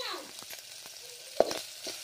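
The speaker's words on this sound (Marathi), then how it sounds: "आपण हे तेलामध्ये असे 4-5 मिनटं मस्तपैकी भाजून घेऊ" Clams roast in oil in a pan for a Konkani-style dish, a soft sizzle with a few light stirring taps and one sharper clack, fairly quiet and brief.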